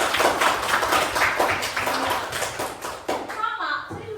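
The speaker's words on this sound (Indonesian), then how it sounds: "Coba tepuk tangan untuk si Batara." A classroom of students claps for a classmate, a quick burst of close hand claps that thins out and stops, with voices chattering around it.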